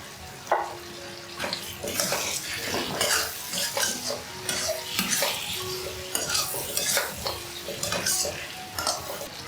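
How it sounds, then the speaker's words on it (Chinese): Konjac tofu is tossed in a wok with ginger, garlic and fried star anise, giving a soft sizzle under repeated scraping and clanking of a spatula against metal, close and busy. "下入魔芋豆腐"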